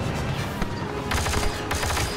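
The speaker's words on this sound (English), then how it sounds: "I got stability attachment and the burst attachment. So instead of 2 shots, it shoots 4." Burst-fire blaster shots from a gun in the video game Star Wars Battlefront 2, fitted with stability and burst attachments that fire four shots per pull, with quick clusters of sharp shots over loud game action.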